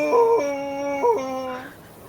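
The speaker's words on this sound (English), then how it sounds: "You hear a howl in the distance" A wolf howls at a distance: one long, steady, tonal wail that steps down in pitch, rises again, then falls away. No other sounds are heard.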